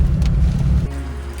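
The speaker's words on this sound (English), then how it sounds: "it's raining." Rain pours down on a campsite at Coffs during a caravan and camping trip, a steady, loud wash of noise with a deep rumble underneath that eases slightly near the end.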